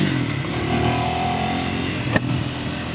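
A 2026 Triumph Scrambler 400X motorcycle pulling on a test ride, its engine giving a steady, loud drone that climbs slightly in pitch, with a brief clatter near the end and no voices.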